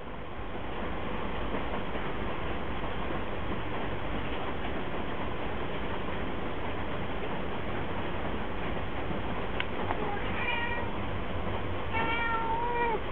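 Cats meow near the end, several short rising calls in quick succession over a constant low rumbling background hiss.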